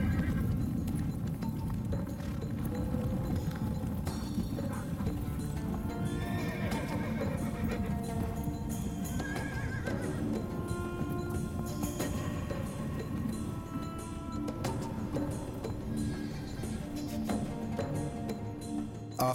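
Horses neigh and whinny repeatedly while hooves clip-clop steadily underneath, a busy, continuous mix of several animals close by with no talking.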